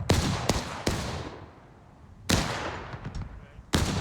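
A Civil War-era cannon in a multiplayer war game fires a canister round amid sharp, loud reports, several booming blasts with echoing tails spaced irregularly across a few seconds.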